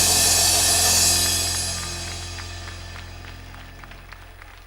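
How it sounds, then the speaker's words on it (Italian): An audience applauds at a live summer concert in Sonnino, Italy, with a loud burst of clapping at the start that fades steadily into scattered, thinning claps. "Ancora un applauso a loro."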